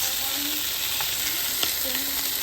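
Herb-seasoned chicken pieces sizzle steadily in a hot pan as they brown, a continuous frying hiss with a few small pops and light clinks, close and alone.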